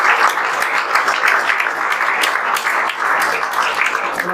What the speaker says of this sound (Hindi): इनके लिए जोरदार तालियां बजा